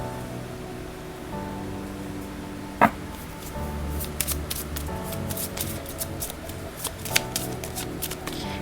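A handmade card is drawn from a deck of oracle-style cards: a sharp snap near the start, then a run of close papery shuffles and flicks, alone and fairly soft.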